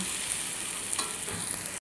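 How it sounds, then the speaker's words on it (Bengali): Pieces of taro (kochu) fry in oil in a pan with a steady, dense, close sizzle that continues evenly and then cuts off abruptly. "এখানে কচুটা হালকা ভাজা হয়ে গিয়েছে।"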